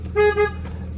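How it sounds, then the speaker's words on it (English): Two short toots from the horn of a 2006 Jaguar S-Type, a bright double honk heard close, with a quiet engine hum underneath. "and we've got a horn."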